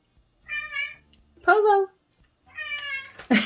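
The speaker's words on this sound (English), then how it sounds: "This is my cat" A domestic cat meows three times, drawn-out and fairly close, with a short pause between each cry; a person calls out briefly near the end.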